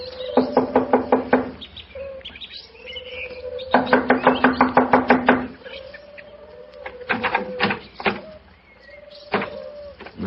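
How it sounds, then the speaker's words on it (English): Knocking on a door on an old radio drama soundtrack, two quick runs of sharp repeated raps, then a few scattered single knocks, near and clear over a faint background tone. "I'll knock on the door."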